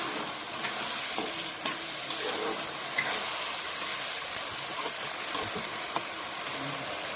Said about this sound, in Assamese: বিলাহী, দি কিনে আমি এতিয়া লাৰি আছোঁ।